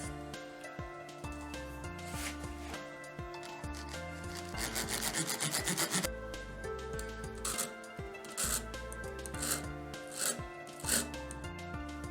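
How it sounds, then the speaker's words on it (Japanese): A hacksaw for metal rasps through a part stuck to a Petri camera lens in steady back-and-forth strokes, close and fairly loud, with a tonal hum running underneath. "もう ノコギリで 金属用のノコギリで、 落としちゃおうかなというふうに思います"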